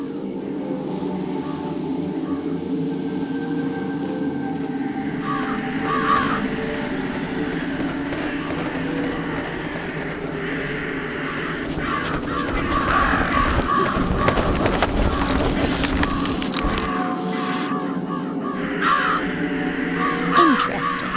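A crow in the graveyard scene of the video game Jenny LeClue gives repeated harsh caws over a droning ambient game soundtrack, with a louder busier stretch midway.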